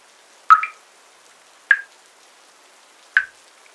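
Three sparse water drips in a horror radio drama, each a sharp isolated plink with a short tail, spaced over a second apart against near silence.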